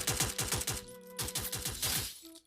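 Automatic gunfire in a Free Fire firefight, evenly spaced rapid shots in two bursts with a short gap, fairly close and sharp, no talking.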